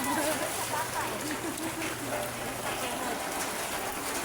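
Heavy rain pouring during a flood in a Philippine neighborhood, a dense, steady hiss of water on surfaces and rushing runoff, close and unbroken, with faint voices mixed into the wash.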